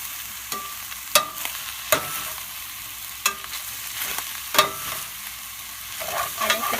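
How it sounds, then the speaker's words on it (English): Chicken sautéing in a pan over medium heat for a Thai mint chili chicken dish: a steady soft sizzle with repeated sharp scrapes and clacks of stirring spaced every second or so, close and fairly quiet, with no talk. "So go ahead and saute this."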